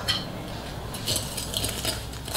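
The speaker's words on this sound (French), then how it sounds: "On mélange pour faire blanchir." A whisk clinking against a bowl while beating four egg yolks with sugar until pale, a quick steady metallic tapping heard close and alone.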